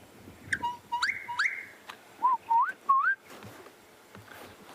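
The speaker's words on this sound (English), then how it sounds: "That is the gorgeous bushshrike. Very beautiful bird. And it's also got a lovely call." A bushshrike gives a series of clear, liquid whistled notes: a few rising phrases, then three distinct swooping whistles, against a quiet outdoor background.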